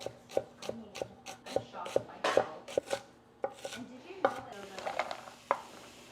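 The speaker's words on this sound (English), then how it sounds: "I am just going to slice it super thin though, just to make it a little bit easier" A knife taps steadily on a cutting board in quick, even strokes, slicing vegetables super thin for tomato bisque, close up, with soft clatter of kitchenware and brief rustling between cuts.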